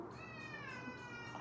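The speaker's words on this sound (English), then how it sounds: "Moosh, my cat." A pet cat meows in one long, drawn-out, tonal cry lasting over a second, close by and clear over a steady indoor background hum.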